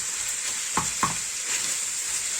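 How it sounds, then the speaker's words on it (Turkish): Meat with a spoonful of tomato paste and flour being stirred in a frying pan, a constant close sizzle broken by two sharp scrapes of the spoon against the pan, with no talking. "Unumu bir güzel karıştıralım."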